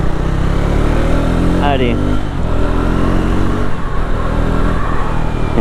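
A Triumph Scrambler 400 XC with a 400 cc single-cylinder engine revving loudly and close, a dry, raspy drone with a brief rising and falling pitch sweep, while someone speaks over it.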